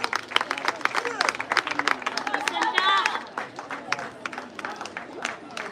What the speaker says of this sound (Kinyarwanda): tubashimire cyane mu mashyi menshi.